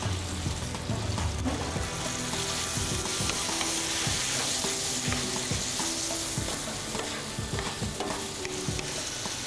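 Green peppers fry with chicken for Turkish shish tawook, a dense, loud sizzle under repeated clattering stirs of a utensil against the pan, close and continuous with no talking.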